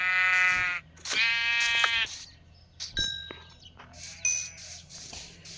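Sheep bleat in a village farmyard: two long, loud wavering calls up front, then quieter bleats with clanks and a ringing metallic ding.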